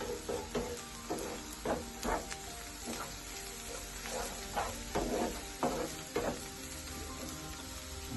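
An aloe vera omelette sizzles and browns in a pan, a steady close frying hiss broken by repeated soft scraping and stirring strokes, with no voices.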